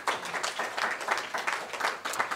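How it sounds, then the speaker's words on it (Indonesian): A seminar audience at a Pharmanex product presentation breaks into steady applause, a dense patter of many hands clapping at moderate loudness for a couple of seconds, with no voices over it. "Tepuk tangan lagi"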